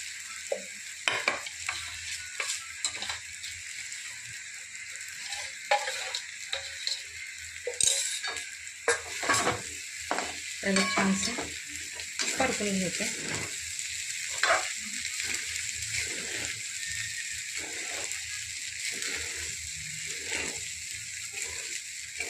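Sago (sabudana) is added to potatoes in a pan and stirred, with a gentle, quiet sizzle and repeated scraping and clinking strokes of a spoon against the pan.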